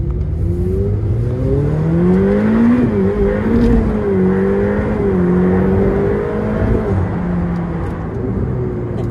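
Ferrari F8 Tributo twin-turbo V8 accelerating on a road in manual mode, loud rising engine pitch with audible gear shifts as revs climb and drop, heard from inside the car with no talk.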